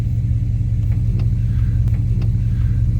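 A Chevrolet Camaro rolls up a home driveway, its engine a steady low rumble that stays close and even, with no talk over it.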